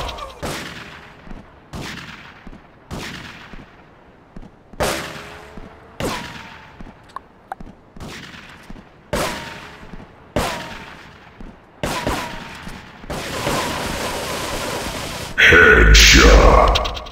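Single gunshots in a GTA 3 multiplayer match crack out one by one at irregular intervals, each sharp blast ringing off, before a denser burst of rapid fire and a loud roar at the end.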